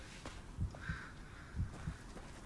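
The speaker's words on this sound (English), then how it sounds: "you can hear our heartbeat" A heartbeat effect thumps in the Blair Witch video game, a faint low double-beat repeating about once a second against a quiet hum.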